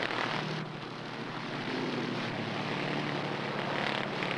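Piston-engine racing plane at the Reno Air Races taxiing into a pit, a loud continuous propeller engine drone that dominates steadily with slight shifts in tone.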